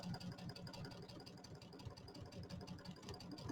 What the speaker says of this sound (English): I'm just holding my reverse button in and I'm backing up over it.